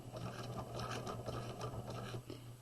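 Sewing machine running steadily while back stitching a quarter-zip jacket sleeve, a continuous close, even mechanical whir with a rapid needle rhythm and a low motor hum throughout.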